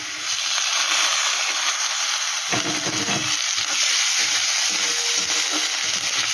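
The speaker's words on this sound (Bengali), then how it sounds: "এটা একটু ভেজে নিচ্ছি, কাঁচা গন্ধটা চলে যাবে" Ginger garlic paste fries with browned onions in a hot pan, a loud continuous sizzle broken by the scrape and clatter of stirring.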